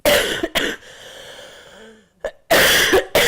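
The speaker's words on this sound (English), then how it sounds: "I did say I'd be coughing and spluttering through" Several harsh, loud coughs come in bursts at the start and end, separated by a quieter stretch with a soft throat sound.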